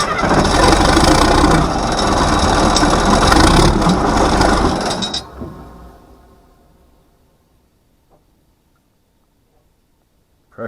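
An engine cranks steadily for about five seconds to prime the oil after sitting in the cold, then stops and fades to near silence, with a faint click near the end.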